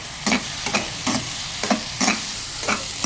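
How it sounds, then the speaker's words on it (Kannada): Onion and field beans (avarekai) fry in a pan as part of a moong dal toovve, a steady sizzle broken by several rhythmic scrapes of stirring, close and clear with no voices. "ಈಗ ಈರುಳ್ಳಿ ಮತ್ತು ಅವರೆಕಾಯಿ ಚೆನ್ನಾಗಿ ಫ್ರೈ ಆಗಿದೆ."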